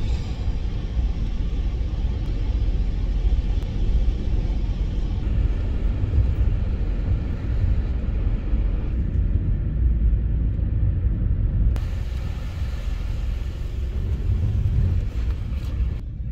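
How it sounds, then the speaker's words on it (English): A car drives with its window open on a snowy winter road, giving a loud, steady roar of wind and road rumble that continues throughout with no speech. "Driving with the window open."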